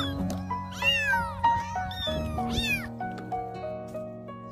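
A mother cat meows several times in a row, with drawn-out rising and falling cries, loud and close, while a steady musical tone plays beneath.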